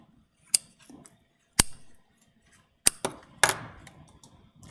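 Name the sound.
scissors cutting loom warp threads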